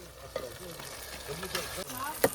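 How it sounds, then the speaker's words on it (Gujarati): Garlic and onion tempering sizzling in hot oil in a village cooking setup, a steady crackling fry with a few stirring clatters, under low voices. "ઓરો મસ્ત વઘાર થઈ ગયો હે અને હવે નાખશું ઓરો"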